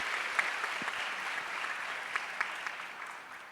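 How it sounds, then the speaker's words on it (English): A crowd applauds a fireside chat panel on AI at a conference, a steady wash of many hands clapping at moderate, fairly distant level, with a few sharper claps standing out. "Can we have another big round of applause for them,"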